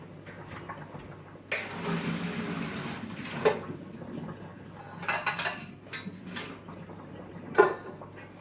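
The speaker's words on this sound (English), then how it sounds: "So I'm just going to drain the broccoli." Cooked broccoli for crockpot cashew chicken is drained in a kitchen: a brief rush of pouring water, then scattered clinks and knocks of a pot and utensils, fairly quiet and close, with no one talking.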